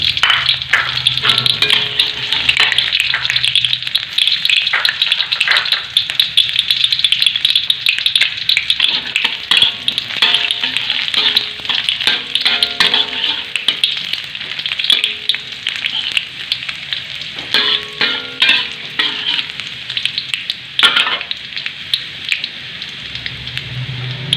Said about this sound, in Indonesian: Sudah cukup panas, kita masukkan bawang merah tadi yang kita iris ya, sebagian bawang merah yang kita iris tadi.